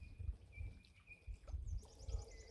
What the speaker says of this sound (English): We got loons going off in the background.